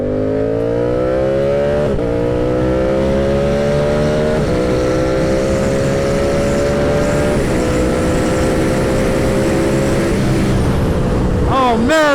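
A Yamaha R7 motorcycle with a GYTR quickshifter accelerates hard, its engine climbing loud and close through several clutchless upshifts, each marked by a brief dip in revs before the pitch rises again.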